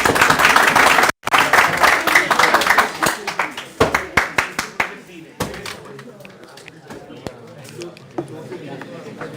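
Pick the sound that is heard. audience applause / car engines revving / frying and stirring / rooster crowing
audience applause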